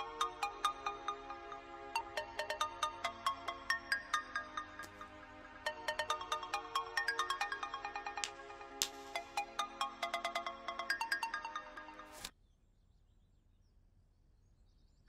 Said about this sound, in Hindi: उसके बाद एक फोन आता है।